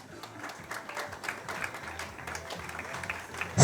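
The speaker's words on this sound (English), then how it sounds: "let us give a round of applause also to our judges and guests" Moderately quiet, steady applause from the audience at a school junior-senior promenade, honouring the judges and guests, with scattered claps continuing throughout and a sharper burst at the very end.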